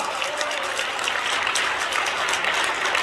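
A crowd at a civic groups' gathering preparing an Easter joint worship service gives a pastor applause, a steady wash of clapping that carries evenly from start to finish.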